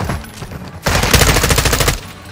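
Automatic gunfire in the Call of Duty Modern Warfare 2 video game, a loud sustained burst of rapid shots over about a second, with weaker firing before it.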